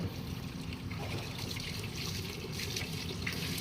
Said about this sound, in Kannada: ಜೊತೆಲಿ ಸಿಂಬಂದು ಸ್ನಾನ ನಡೀತಾ ಇದೆ.